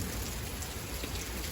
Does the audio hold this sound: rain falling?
yes